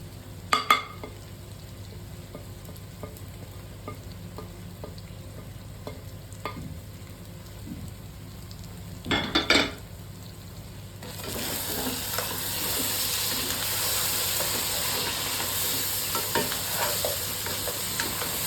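Grated coconut being stirred into Mangalorean crab sukka in a pan, a steady fry and sizzle with scattered scraping stirs, the frying growing louder and denser partway through, no voices.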